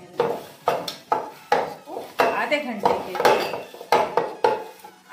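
Chicken marinade with paste, coriander-cumin powder and a little food colour being mixed in a bowl, producing quick rhythmic clinks and scrapes against the bowl, close up, with a voice speaking briefly.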